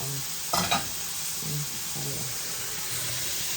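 Chopped sayote being stirred in a hot frying pan, soft scraping strokes over a steady low sizzle, with a brief louder clatter near the start and faint talk in the background.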